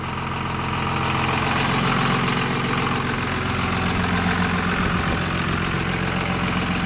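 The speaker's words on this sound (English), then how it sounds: "you can hear it's got a nice idle to it" A truck with a custom exhaust idles steadily, a loud continuous rumble with an even low throb throughout and no voices.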